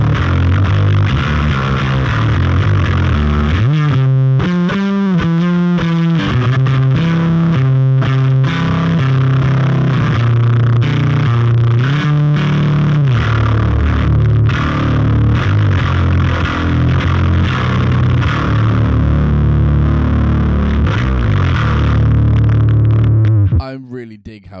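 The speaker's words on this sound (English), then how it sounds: "It just sounds really nice and distorted." Bass guitar played through a Boss HM-2W distortion pedal with reverb, a loud, buzzing, chainsaw-like tone with throbbing low notes that sustains steadily for about 24 seconds before cutting off abruptly.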